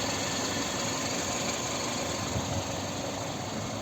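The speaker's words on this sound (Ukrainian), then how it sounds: "Звук двигуна ви чуєте" The 2.0-litre petrol engine of a 2006 Kia Sportage idles steadily, a constant low rumbling drone with no change in speed throughout.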